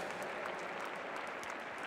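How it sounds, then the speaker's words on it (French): A crowd applauds steadily at a show jumping event in the Grand Palais, Paris: a dense, even wash of clapping that stays fairly soft and distant, with no voices over it. "certainement applaudi une nouvelle fois par le public du Grand Palais pour saluer sa belle prestation"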